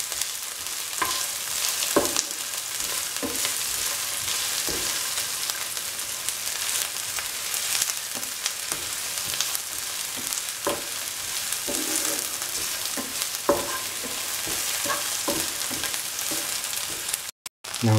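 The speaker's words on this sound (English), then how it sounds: "for 7 to 8 minutes until the onions are golden brown" Onions frying in a pan until golden brown, a steady loud sizzle throughout with occasional clicks and scrapes of stirring, cutting out briefly near the end.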